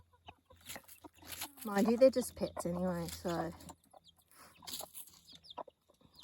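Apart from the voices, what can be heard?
Sebright chickens clucking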